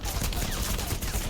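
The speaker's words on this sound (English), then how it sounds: "He was spotted by the machine gun fire." Rapid machine gun fire rattles continuously and loudly in War Thunder, a dense burst of shots lasting the whole moment.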